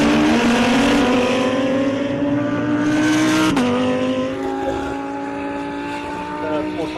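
A Ford Mustang V8 Supercar at a motor racing festival, its loud engine droning steadily with a sharp gear change midway, the note dropping then climbing again, under commentary.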